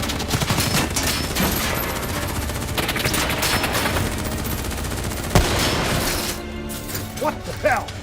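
Sustained automatic gunfire and bursts of shooting from the Call of Duty: Black Ops III video game, dense and loud throughout with mechanical clatter and a sharp impact near the end, under soldiers shouting.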